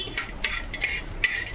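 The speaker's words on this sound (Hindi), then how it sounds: "हमारा गोंद सुहागना इसमें डाल रहे हैं, इसको हम थोड़ा भूनेंगे" Edible gum (gond) roasts in pure ghee with a soft, bright sizzle, broken by a few quick stirring scrapes against the pan, brief and close with no talk.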